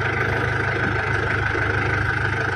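A diesel car engine idles steadily at close range, a constant low rumble with a faint rhythmic chug and no revving or voices over it.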